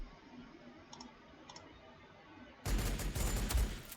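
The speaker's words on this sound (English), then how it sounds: "We could just move up and just shoot the crap out of him with bolt pistols" Bolt pistol fire in the Warhammer 40,000: Sanctus Reach strategy game bursts in as a loud, dense rattle of shots after a quiet stretch with a couple of faint clicks.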